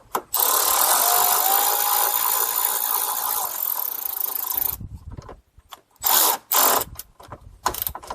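Ratchet tightening two 10 mm bolts on a Chrysler Town & Country front end: a long, continuous buzzing ratchet run of about four seconds, then several shorter clicking bursts, close up with no voices.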